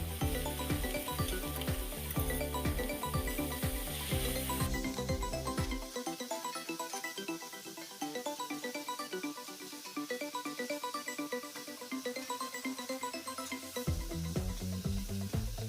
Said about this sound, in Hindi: जब तक मसाला भुन रहा है